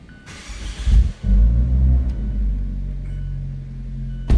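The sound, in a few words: Fiat 124 Spider engine push-button start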